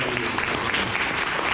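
Round of applause from an audience for a speaker honoring a local host, a loud, dense, continuous burst of clapping filling the room.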